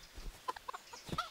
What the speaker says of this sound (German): Oh, aufs Huhn.